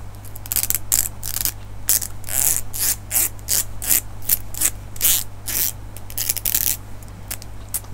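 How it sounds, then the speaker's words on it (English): A hair comb's teeth are flicked and run through the fingers close to the mic in a binaural haircut role play, making quick ratcheting clicks in uneven bursts over a low steady hum. "now I have my comb that I'm gonna be using"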